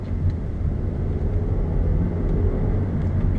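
Used 2012 Mazda 3 Skyactiv with a 6-speed, heard from inside while driving: steady low engine and road rumble, continuous and even, with no voices.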